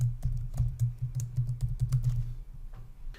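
Password being typed on a computer keyboard: a quick run of light key clicks at an uneven rhythm, close up over a steady low hum, with no talking.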